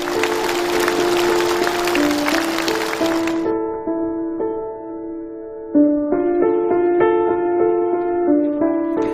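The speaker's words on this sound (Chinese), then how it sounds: "让我们一起来掌声欢迎这个女孩" A studio audience at a Chinese TV reunion show breaks into dense, steady applause for an arriving guest, which cuts off after a few seconds and gives way to gentle music playing alone.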